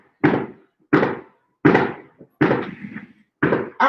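New Year's Eve fireworks booming in five evenly spaced, fairly loud bangs, each with a short rumbling tail; no talking.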